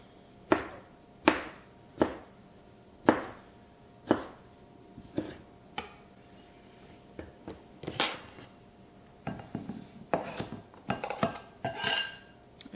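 A knife dices potatoes, pickles and egg in a steady run of sharp, close chops, spaced about a second apart at first, then quickening into a busier, uneven flurry of cuts with no talking.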